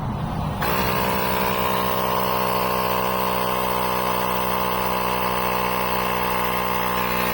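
A YESPER X1 portable air compressor switches on with a click and settles into a steady, buzzing motor whine with a rattling vibration, running continuously and close by.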